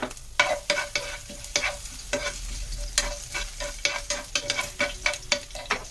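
Crushed garlic cloves sizzling and frying in a pan for oil-fried eggplant, with repeated stirring scrapes at an uneven rhythm, close up and steady, no voices.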